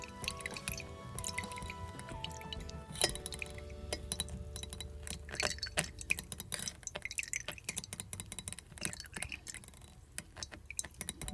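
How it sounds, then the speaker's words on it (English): A spoon presses and scrapes pomegranate seeds to squeeze out juice, producing soft squishing with scattered small clinks and taps against a glass or bowl, close and fairly quiet, growing busier toward the end. "we have to help using the spoon in order for the juice to come out, and we have to press"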